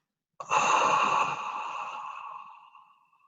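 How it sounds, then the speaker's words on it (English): One slow, deep breath is let out in a long, smooth hiss during a gentle body movement practice. It starts abruptly, stays strong, then fades gradually over about three seconds, close and alone. "And extend your exhale."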